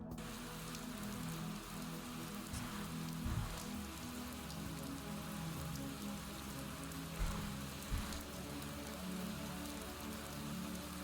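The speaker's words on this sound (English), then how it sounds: "Can we buy the rain? Yes," Steady rain pattering on a surface, a constant ambient loop in the Cookie Clicker game, with a few soft low thumps rising briefly through the even wash of drops; no voices.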